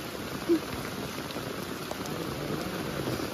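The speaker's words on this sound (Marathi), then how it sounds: "जे बेकार पाऊस वाढला" A heavy first monsoon downpour near a river drums in a steady, even hiss of close raindrops, with one brief knock near the start and no talking.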